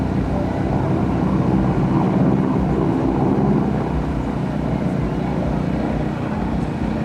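GEICO Skytypers solo planes performing a pop-up maneuver and roll-in at the 2008 Joint Services Open House air show, heard as a steady, loud broadband engine drone sustained through the whole stretch.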